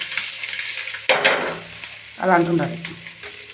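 Fish fries slowly in shallow oil, giving a steady close sizzle with brief stirring scrapes and a sudden louder crackle, while someone talks briefly over it.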